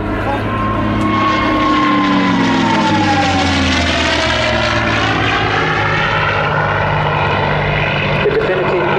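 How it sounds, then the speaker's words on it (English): A P-51D Mustang's Merlin engine with two-stage, two-speed supercharger passes during an airshow flypast, a loud sustained propeller drone with a rising and falling supercharger whine sweeping through as it comes in and goes by. "its two-stage, two-speed supercharger, giving it that unique whine and sing as it comes in"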